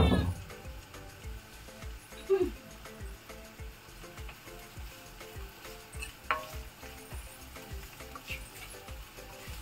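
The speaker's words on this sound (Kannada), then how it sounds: "ಸ್ವಲ್ಪ ಟ್ರಾನ್ಸ್ಪರೆಂಟ್ ಆಗೋರಕ್ಕೆ ಫ್ರೈ ಆಗಲಿ" Ingredients fry in a pan until transparent, a steady low sizzle with occasional stirring clatter, nearby but fairly quiet, while a cat meows faintly in the background.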